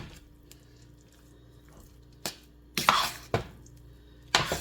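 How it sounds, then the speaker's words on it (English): Grated Parmesan being stirred into a big pot of seasoned rice cooked in broth, off the heat: a few soft, wet scraping and squishing strokes of a spoon against the pot, close and moderately loud, spaced irregularly between quiet pauses. "we're gonna get the Parmesan stirred in."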